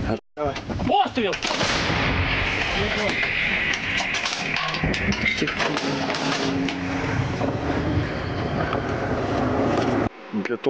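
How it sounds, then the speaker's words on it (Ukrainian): Ukrainian artillery fires at a Russian tank in a frontline combat area, a loud boom followed by a long, rough rumble, with wind buffeting the microphone and voices faintly underneath. "Постріл!"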